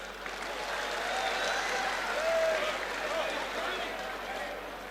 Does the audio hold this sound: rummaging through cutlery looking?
no